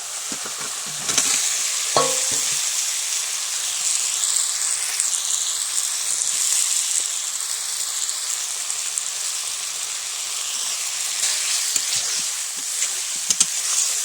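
Cut potato and papaya frying in a cooked spice paste, a loud continuous hiss of sizzling oil up close with a few scraping stirs near the start and scattered clicks, no voices.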